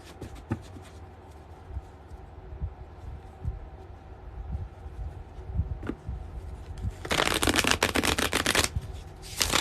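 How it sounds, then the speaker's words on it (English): Tarot cards being shuffled by hand: soft scattered taps and rustles, then a loud, dense riffling burst near the end, close and clear with no talk. "Oh, I have to shuffle one more."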